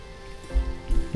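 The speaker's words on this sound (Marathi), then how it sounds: "पावसाने बाजी मारलीच शेवटी." Rain patters on the ground partway up the climb to Vairatgad hill fort near Wai, Satara: a soft, steady hiss with a couple of heavier low thumps, close and unaccompanied by talk.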